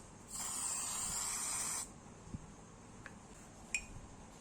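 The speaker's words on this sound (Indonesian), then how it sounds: "kita akan semprot dulu ya pakai crepe cleaner" Carburetor cleaner sprayed from an aerosol can onto a motorcycle engine part while replacing a water pump seal and bearing, one close, steady hiss lasting about a second and a half, followed by faint clicks and small handling noises.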